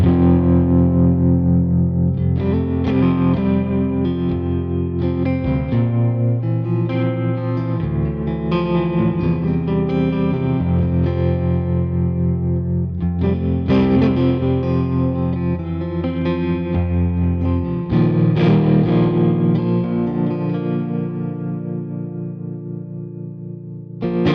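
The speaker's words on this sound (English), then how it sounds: "I'll throw the tremolo on so you can hear it" Electric guitar through a Toneking Imperial MKII amp with tremolo engaged, chords and notes pulsing in steady volume swells, loud and sustained without talk.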